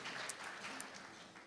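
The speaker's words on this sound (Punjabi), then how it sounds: "ਤਾੜੀਆਂ ਮਾਰ ਦਿਓ" Scattered clapping from an audience at a Punjabi women's pageant round, a thin, continuous patter of applause held at a moderate, steady level for a brief moment with no voices over it.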